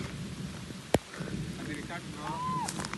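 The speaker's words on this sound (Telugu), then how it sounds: "చుట్టూ కొండ కొండల్లో రాయి వర్షం ఎంత బాగుందో" Steady patter of rain on a surface throughout, in the hills around Araku, with a sharp knock near the start and faint voices and a whistling tone in the background.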